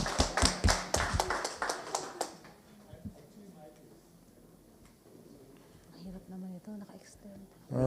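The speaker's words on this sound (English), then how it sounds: "Let's give it one more round of applause" A conference audience gives a team another round of applause after its short talk: brisk, fairly close clapping that fades out after about two seconds, leaving quiet room tone and a few faint voices.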